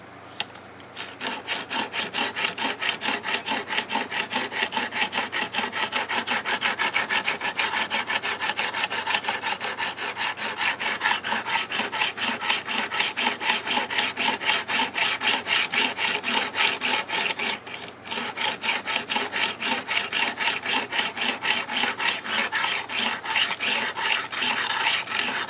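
Rapid, rhythmic back-and-forth rasping of a knife blade being sharpened on a Ruixin Pro sharpener, loud and close, grinding on steadily with one short pause partway through.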